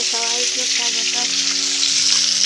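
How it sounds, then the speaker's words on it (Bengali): Fish pieces sizzling and spattering loudly in hot oil in a pan, a dense, continuous crackling hiss close up, with faint tonal hum underneath and no talk. "মাছের তেল ভাজতে কেমন ফুটে লাগছে"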